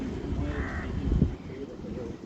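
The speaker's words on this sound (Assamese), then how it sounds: "ধুনীয়াকৈ বান্দৰটো বহিছে, কাউৰীয়ে চিঞৰি আছে" Crows caw harshly around a house rooftop and courtyard, several loud, rough calls repeating close by over a low background murmur.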